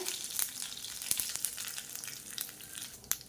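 Cumin seeds and dried chili seeds sizzle in hot oil, a soft steady crackle with scattered sharper pops, fairly faint and with no talk over it.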